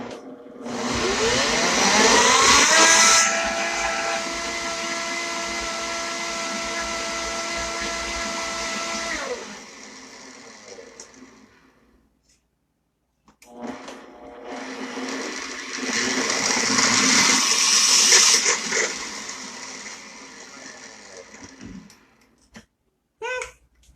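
A Vitamix blender grinds partly frozen avocado salad in two long, loud bursts of motor roar separated by a brief pause, with no talking.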